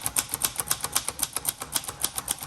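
Typing on a 1961 Royal Forward travel typewriter: a quick, steady run of crisp key strikes, close and clear, roughly five or six clacks per second with no talking.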